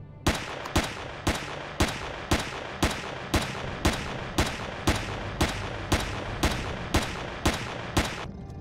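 Automated turret in the space survival game Empyrion Galactic Survival firing a steady, evenly spaced series of sharp loud shots, about two per second, with no talking over it.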